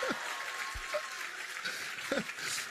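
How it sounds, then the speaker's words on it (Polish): A studio audience on the Polish TV game show Koło Fortuny applauds in a steady wash of clapping, with a few short voices and laughs over it. "dajcie brawa na Michała."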